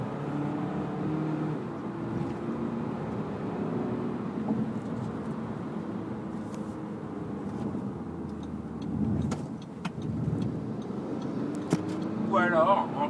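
A 2013 Audi Q3 2.0 TDI 177 hp diesel in sport mode gives off a steady, droning engine hum that stays fairly even throughout, with faint voices underneath.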